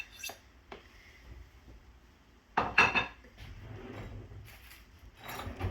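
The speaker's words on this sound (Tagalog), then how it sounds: "Overripe banana. Tapos ismash lang natin dyan." An overripe banana mashed with utensils in a bowl while making chicken and waffles: scattered clinks and scrapes of metal against the bowl, with one louder burst of clattering mashing near the middle, fairly close.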